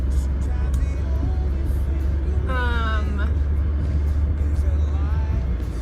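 Steady low road rumble from inside a moving car, continuous and even throughout, with someone talking over it.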